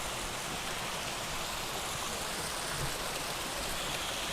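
A constant broadband rush of falling water, steady and unbroken, like a waterfall heard close by with no other sounds, on Mount Isabel de Torres in the Dominican Republic.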